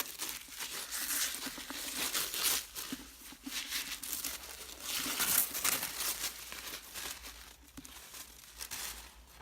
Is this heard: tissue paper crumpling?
yes